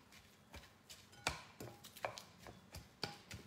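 Tinned salmon pressed and mushed with a firm scraper in a bowl, a series of soft repeated taps and scrapes roughly every half second, close and quiet.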